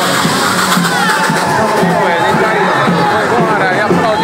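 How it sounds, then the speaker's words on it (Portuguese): A dense crowd cheers and applauds outdoors as the ROTA elite police troop parades out of its São Paulo barracks for the unit's 46th anniversary. The noise is a steady, loud roar of hubbub that never lets up. "Agora é aplaudida a rota"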